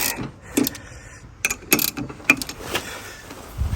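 A small socket wrench ratchets a nut on an EGO Z6 zero-turn mower, sharp irregular clicks and metallic rattles in short close bursts with quiet gaps between.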